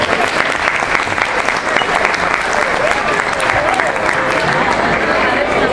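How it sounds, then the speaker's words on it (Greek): Warm applause from a crowd for a children's folk dance group at a Vasilopita cutting celebration, dense, loud and sustained clapping filling the whole moment without letup. "Ένα θερμό χειροκρότημα για τα παιδιά."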